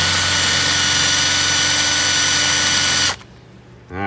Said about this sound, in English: And we'll drill this old line out.